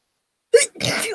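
A single sharp, forceful human sneeze bursts out of silence, close and loud, with a short intake at its start during a live drawing stream.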